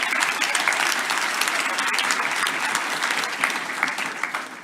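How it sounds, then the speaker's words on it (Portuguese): A church congregation applauds the Lord in a loud, dense wash of clapping that stays steady throughout with a few sharper individual claps standing out. "Pode aplaudir ao Senhor"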